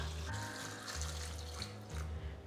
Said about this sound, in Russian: Картошку помещаем в кастрюлю, заливаем водой